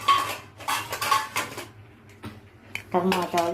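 A kadai pan goes onto the stove with close metallic clanks and rattles of cookware. Short quiet gaps fall between the knocks, and a voice comes in near the end.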